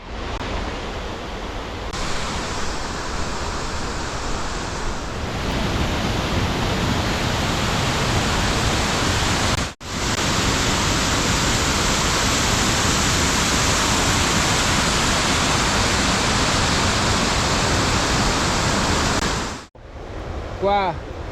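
The Artugna waterfall in the Italian mountains near Mezzomonte roars as a dense, steady broadband rush, loud and close for about twenty seconds, with two short breaks where the sound drops away.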